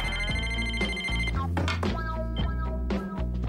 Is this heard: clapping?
no